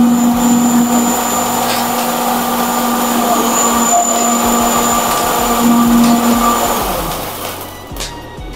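A row of cold spark machines fires in sequence from left to right, giving a loud, steady rushing hiss with a thin high whine that holds throughout, then drops away near the end.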